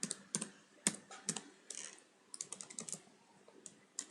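Typing on a computer keyboard, a burst of close, uneven key clicks and taps with short pauses, no voices.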